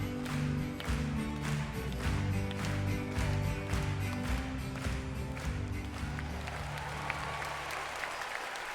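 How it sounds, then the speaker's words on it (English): Audience applause at a children's concert, with steady dense clapping over band music for most of the clip before thinning toward the end. "The band began to play, and Little Miss Muffet clapped."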